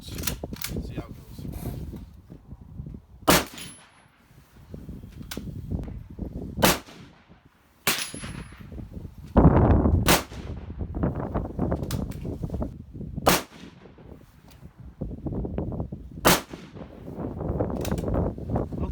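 A Mosin Nagant military surplus rifle fired at 50 yards outdoors on a windy day: several sharp, loud shots spaced a few seconds apart, with wind noise, bolt-action clatter and quiet talk between them.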